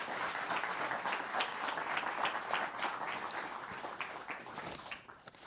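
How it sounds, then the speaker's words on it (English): Steady applause fills the room from an audience after a film screening, a dense even patter of many hands that fades out near the end. "You can applaud."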